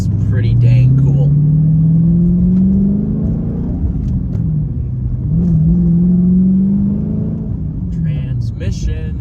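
A Dodge Challenger SRT8 with a six-speed manual on a cold morning revs through its gears, engine pitch climbing then dropping at each shift, several loud close pulls in a row.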